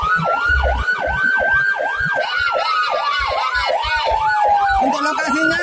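Wailing siren of an Indonesian military (TNI) ambulance responding to a road accident on Jalan Diponegoro, rising and falling in steady rapid cycles, loud and close over road traffic, with a brief lower siren tone near the end.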